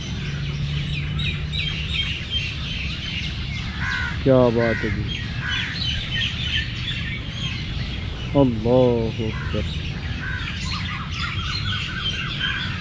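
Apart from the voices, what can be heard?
birds chirping and singing in the morning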